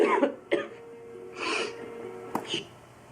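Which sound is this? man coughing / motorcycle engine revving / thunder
man coughing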